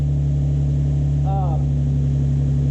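A Nissan 350Z engine idles steadily just after an oil change, a constant low hum with a brief faint chirp partway through.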